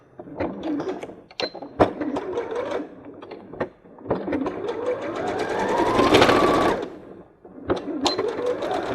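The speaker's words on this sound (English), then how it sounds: "And sew straight across the end." Close, loud whirring bursts of a sewing machine stitching straight across the end of a fabric bag strap, several short runs separated by pauses, with one longer continuous run rising in pitch before stopping.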